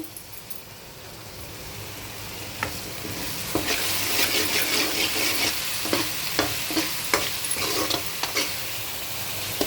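Masala sizzles and fries in a pan with tamarind and tomato juice for a tamarind-leaf chicken curry, a steady close hiss broken by sharp stirring scrapes and spatters, no voices.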